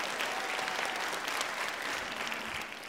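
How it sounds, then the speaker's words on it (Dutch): Sustained applause from an audience, many hands clapping at once at a steady level, easing slightly at the end. "Maar graag ook even een applaus voor jezelf dat je hier bent vandaag."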